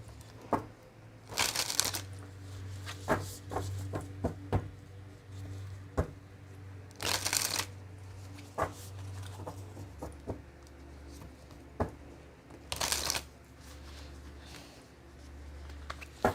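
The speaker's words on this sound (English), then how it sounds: "let's pull some cards on these." Tarot deck shuffled by hand, quiet papery riffles and taps interspersed with three louder, brief bursts of card flapping, all close but low in level over a faint background hum.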